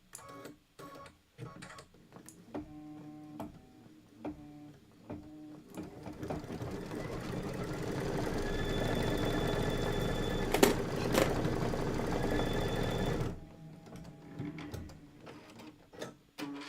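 A sewing machine stitches a quilt block in one sustained, even run of about seven seconds, close and moderately loud, framed by quieter moments of faint background sound.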